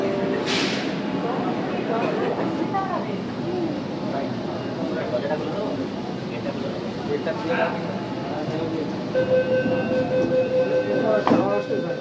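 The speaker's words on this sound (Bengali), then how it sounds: "এবার মহাকরণ থেকে রওনা দিচ্ছে গাড়ি হাওড়া মেট্রো স্টেশনের দিকে" A Kolkata metro train rumbles steadily as it pulls away from Mahakaran station toward Howrah, with occasional brief squeals and clatter, and voices murmuring in the carriage.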